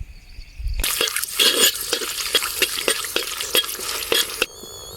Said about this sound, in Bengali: তেল গরম হয়ে গেছে এবার এই যে ফোড়নের জন্য শুকনো লঙ্কা দিয়ে দিলাম